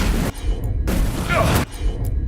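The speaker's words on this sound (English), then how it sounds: "They're firing at us!" Enemy gunfire in the Dragon Age: The Veilguard video game, loud bursts of broadband booms and shots with dense low-end rumble, the heaviest blasts at the start and in the middle of the clip.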